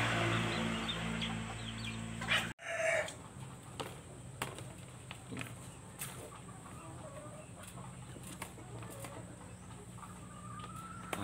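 Chickens cluck softly at a distance amid faint farmyard ambience, after a brief clatter near the start.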